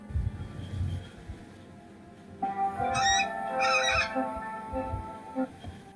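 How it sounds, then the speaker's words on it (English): Harsh, honking calls from a small bird ring out in short bursts over a low background rumble, loud and close. "this is the small bird singing here in a particular video clip"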